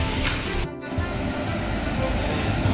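A train standing at Bhuvanagiri railway station gives a steady, close rumble with broadband hiss and a brief drop in level partway through, with no voices.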